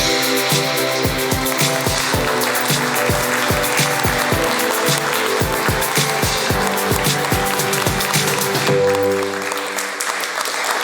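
Theater audience at an amateur stage parody clapping to welcome Mr. Rudolf, loud dense applause with rhythmic clapping bursts, fading toward the end.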